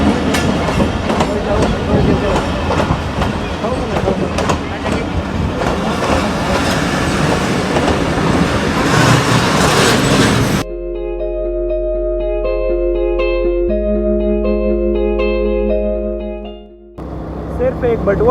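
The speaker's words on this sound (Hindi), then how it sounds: "खैर ट्रेन अपने दिए हुए वक्त के मुताबिक 2:30 की बजाय 3 बजे पहुँच गई।" A train pulling into a railway station, loud rumbling and clattering wheels for about ten seconds, then cutting abruptly to tonal music, with a voice faintly mixed in.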